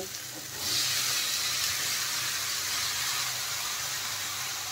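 Boiled sweet corn tipped into a pan of frying onion and tomato for a spicy corn chaat, bringing a sudden loud, steady sizzle and hiss that jumps up near the start and holds close and even throughout.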